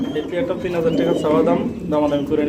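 Fancy pigeons coo in low, rolling calls close by while people talk over them.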